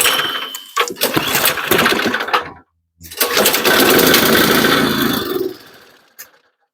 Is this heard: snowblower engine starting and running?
yes